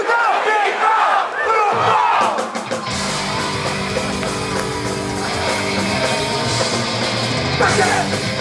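A crowd yells loudly in unison at a hardcore punk concert in Garden Grove, California, a dense sustained roar of shouting voices in a reverberant hall with amplified band sound building up.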